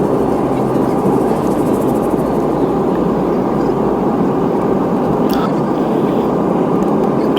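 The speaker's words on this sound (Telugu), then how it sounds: "ఫ్లైట్ అయితే దిగుతుందండి ఇక్కడ ఎయిర్పోర్ట్లో." Cabin of an airliner descending to land at Jaipur airport, heard from inside as a loud, steady engine and airflow roar with a deep hum throughout.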